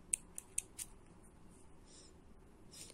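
Scissors snipping thread during Turkish needle lace work, four sharp, quiet close clicks in quick succession at the start, followed by faint soft handling sounds and a last light snip.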